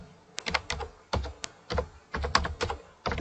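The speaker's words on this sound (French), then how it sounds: "Pour faire la saisie au niveau d'Excel, il faut seulement saisir au clavier." Fingers tap on a computer keyboard while entering data into an Excel spreadsheet, close and crisp, in short irregular bursts of keystrokes with brief pauses between them and no voices.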